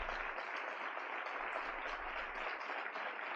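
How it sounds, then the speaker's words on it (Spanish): Applause at a political campaign rally in Tauste, Aragón, a continuous even wash of clapping from a crowd with no talk over it. "yo pediría un aplauso para él por acompañarnos"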